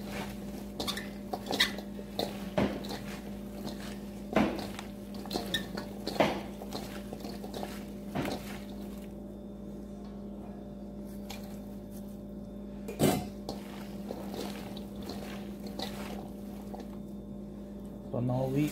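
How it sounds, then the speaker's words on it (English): Macaroni being mixed in a bowl for apple salad: repeated clinks and scrapes of a utensil against a dish, irregular and close, over a steady background hum, with a person talking at times. "So now we mix here our macaroni"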